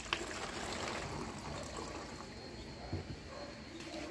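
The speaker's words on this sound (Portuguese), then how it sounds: "E vai colocar um litro de água." Water is poured into a cut-down PET plastic bottle, a fairly quiet, continuous trickling fill with a few small splashes and no speech over it.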